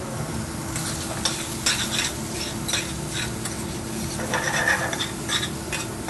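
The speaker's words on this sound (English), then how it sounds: "Obviously bacon has loads of natural oil, so as that fries, the oils will come out of the bacon" Bacon fries in a pan with a little oil, sizzling steadily while being stirred and scraped, with repeated rasping strokes of a utensil against the pan, close and without talk.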